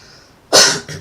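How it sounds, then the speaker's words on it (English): A single close, loud throat clearing bursts out after a quiet half second, followed by a brief second rasp, with no speech. "I had to clear my throat there"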